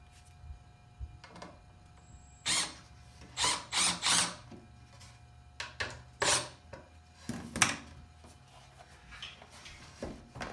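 Screws driven through 3/4-inch plywood, number 6 1.25-inch screws, by a power driver: several separate short whirring bursts with pauses between them, close and moderately loud, no talking.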